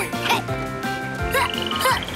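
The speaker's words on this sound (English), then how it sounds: "Poison dart frogs." Several short, chirpy poison dart frog calls repeat in quick bursts in a rainforest, with music-like tones running underneath.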